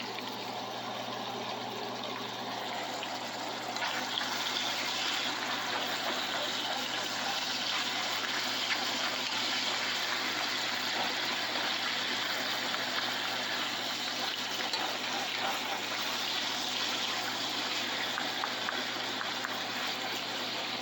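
Beef and gravy simmering on low heat in a pot, a steady, close, even bubbling wash that holds constant throughout with no voices.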